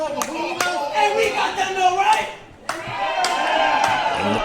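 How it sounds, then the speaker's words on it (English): A crowd at a professional wrestling tag team championship show claps in scattered bursts, the applause mixed with cheering. Loud voices carry over and between the claps throughout. "the crowd getting behind Misery Inc., cheering for a changing of the guard here"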